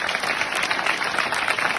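School students at an awareness program at Celestial High School in Siricilla break into a steady round of applause, dense clapping from a crowded room held at an even level from start to finish.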